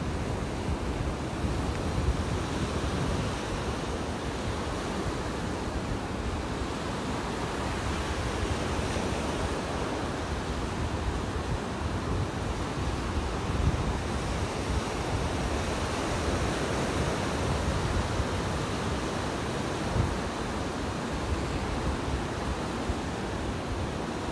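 Ocean surf rolls onto a beach in North Naples, Florida, as a continuous loud wash of breaking waves with some wind buffeting the microphone. No voices are heard.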